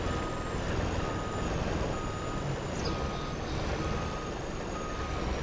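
In Farming Simulator 25, a truck sounds a steady series of evenly spaced high warning beeps over a constant low engine rumble, moderately loud, with no talking.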